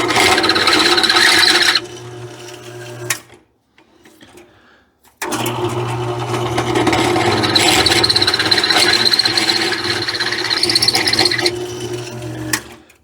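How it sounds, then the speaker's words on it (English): A poorly sharpened drill bit grinds into a metal wheel hub during a 6 to 5 lug swap, giving a harsh, loud rasping whir. It runs for a few seconds, stops briefly, then resumes for a longer stretch. "it's only cutting about 30 thousandths right on the outside edge of that drill bit"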